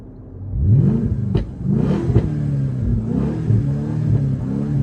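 A 2007 Mercedes CL500 with a straight pipe exhaust and Prior Design body kit accelerates from a standstill, its engine roaring loudly through rising, gear-stepped revs, heard close from inside the car.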